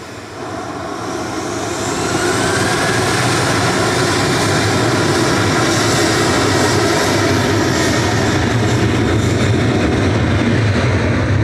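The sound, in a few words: Ryanair plane departing Manchester Airport to Copenhagen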